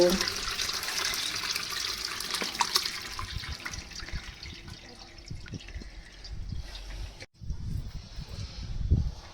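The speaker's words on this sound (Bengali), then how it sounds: "এবার এই ছানাটাকে এই কাপড়ের উপরে আস্তে আস্তে করে ঢেলে নেব" Chhana curds and whey poured slowly onto a straining cloth, a steady wet splashing and trickling that runs close and fairly loud throughout, breaking briefly near the end before resuming.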